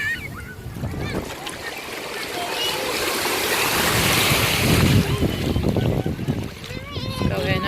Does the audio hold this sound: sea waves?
yes